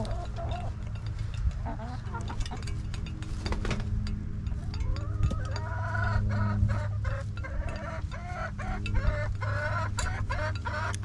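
Chickens cluck and squawk close by in a steady, busy chorus, with scattered sharp clucks over a low background hum.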